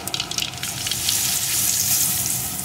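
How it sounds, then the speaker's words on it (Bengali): Nigella seeds and two dried red chillies hit hot mustard oil in a pan, giving a loud, close crackle that settles into a steady sizzle with no one talking. "এখন আমি এর ভিতরে দিয়ে দেব কালো জিরে, সাথেই দিয়ে দেব 2টো শুকনো লঙ্কা।"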